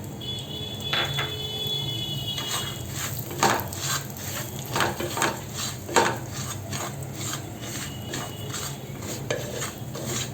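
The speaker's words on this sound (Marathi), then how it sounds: "आपण हे आता भरड तांदळाची काढली ना ती छान तुपावर भाजून घेऊया" Coarse rice grits roasting in hot ghee in a pan, stirred with a steady run of scraping and light clinking strokes over a soft continuous sizzle, close by with no talk.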